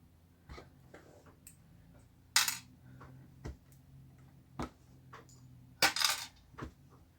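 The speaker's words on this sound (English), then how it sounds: "So I'm going to take all of these drawing pins out now." Drawing pins are pulled out one by one from a hand-woven bracelet project, leaving a series of small, sharp metallic clicks and taps spaced irregularly, with two louder scraping rattles, close and fairly quiet.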